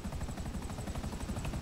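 A helicopter arrives in the video game GTA 5, its rotor thumping in a fast, even pulse at modest volume.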